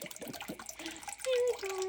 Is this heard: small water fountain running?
yes